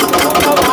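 An Eicher diesel engine of the generator type, 2023 model, runs steadily at close range with a loud, even mechanical drone and no pauses.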